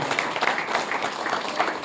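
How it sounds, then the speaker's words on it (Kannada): An audience at an Independence Day school function claps in dense, continuous applause that stays loud and even throughout. "ಜೋರಾದ ಚಪ್ಪಾಳೆಯೊಂದಿಗೆ ವಂದನೆಗಳನ್ನು ಅವರಿಗೆ ಸಮರ್ಪಣೆ ಮಾಡಿ"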